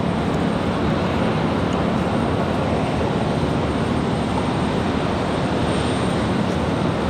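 An Airbus A320 arriving at Raleigh-Durham airport from Orlando gives a loud, steady broadband jet roar that holds unbroken throughout, with no voices.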